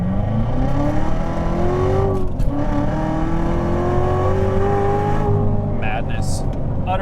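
A manual C7 Corvette Z06 accelerates hard from 20 to 70 mph, its engine note rising steadily and loudly through the gears with brief dips at the shifts, heard from inside the car with a voice speaking over it.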